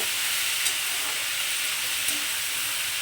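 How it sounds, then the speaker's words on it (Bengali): Rice is stirred with fenugreek greens, potato and eggplant in a hot pan, giving a steady, close hissing sizzle throughout. A couple of soft scraping knocks from the stirring come through, with no talking. "ভাতটাকেও দিয়ে দিয়েছি এটা এর সঙ্গে খুব ভালো করে মিশিয়ে নেব"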